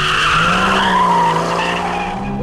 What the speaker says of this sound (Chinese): 在一个湿地这里去驾驶这一台 Cayman 的 GTS